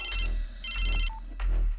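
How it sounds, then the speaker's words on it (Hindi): A mobile phone rings in a film scene, with three short, bright electronic ringtone bursts in a repeating pattern, close and clear and with no talk over them. "अपना फोन उठा।"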